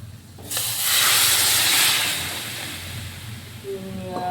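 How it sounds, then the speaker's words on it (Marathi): Hot water hits a hot pan of egg curry with a sudden loud hiss and steamy sizzle that swells, then slowly settles into a softer bubbling. "भाजीमध्ये गरमच पाणी घालते"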